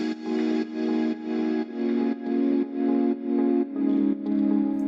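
A soloed reverb bus carrying pads, plucks, effects and drums: a wet, smeared wash pulsing in regular rhythmic swells, with sustained tones blurred together at steady moderate loudness.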